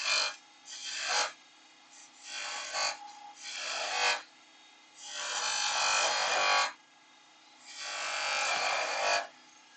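A wood-turning chisel cuts V-notches into a spinning piece on a lathe, producing a series of rasping, scraping bursts of varying length separated by quiet gaps, over a faint steady machine hum.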